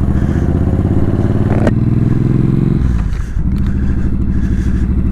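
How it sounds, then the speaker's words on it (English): Loud, close exhaust note of a small motorcycle being ridden, a steady low engine drone that dips briefly as the throttle eases and then picks back up. "hopefully you guys can hear the exhaust note on this thing"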